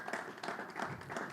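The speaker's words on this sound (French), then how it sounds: "Est-ce que nous pouvons l'applaudir?" Studio audience at a health quiz show on malaria applauding a contestant, a short burst of steady mixed clapping filling the room with no voices over it.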